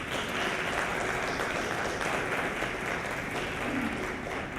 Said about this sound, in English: Let's receive Mr. Misha with applause.